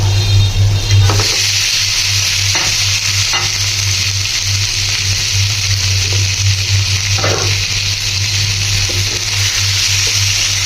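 Steady, loud sizzling of fish frying in hot spiced oil, a continuous crackling hiss with a low hum beneath and occasional soft clinks.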